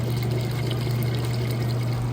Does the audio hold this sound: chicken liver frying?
no